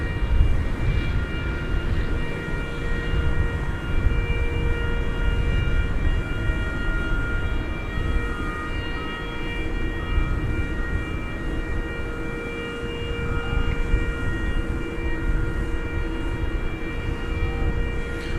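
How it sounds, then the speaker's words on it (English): A Martinair Cessna 208B Super Cargo turboprop landing at DFW Airport at night, a steady droning engine roar with tonal whine holding for the whole stretch, fairly close and loud with no talking. "Another Martinair flight coming in, this one from the destination of Addison Airport in Dallas."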